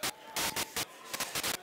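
A Dreadbox Chromatic synth module in scatter mode spits out random white-noise bursts: short, loud, irregularly spaced hissy blasts separated by near silence, played alone.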